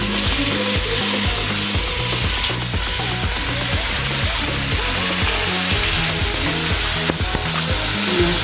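Chicken pieces dropped into a hot pan for a soup curry, already coated with turmeric, frying with a loud, steady sizzle that stays constant throughout, broken by faint clanks of stirring.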